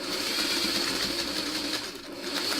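A sewing machine stitching a quilt seam, running steadily at close range with a continuous whirring hum and no talking.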